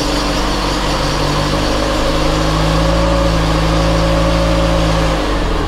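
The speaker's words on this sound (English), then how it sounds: "We've got a fair old exhaust leak somewhere, but that is running really smoothly" A Volvo 480 with a 2.0 litre engine, restarted after years of restoration, idles smoothly but with a loud exhaust leak, giving a steady close-up rumble with a raspy, chuffing edge throughout.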